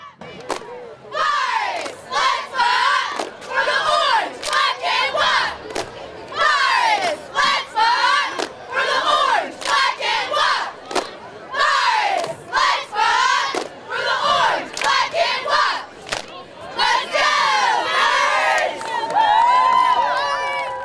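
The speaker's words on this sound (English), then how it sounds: "Cheer on with the Friday Night Football Cheerleaders of the Week." High school cheerleaders chant and shout in loud rhythmic bursts at a Friday night football game, with crowd cheering filling the whole stretch and a few whoops near the end.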